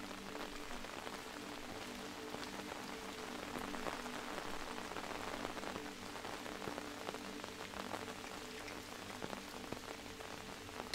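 Steady rain falls on a windmill, an even patter of drops heard alone and close, with no voices over it.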